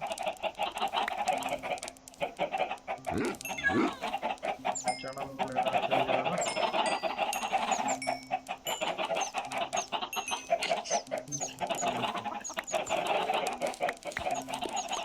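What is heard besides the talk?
chickens clucking in Minecraft video game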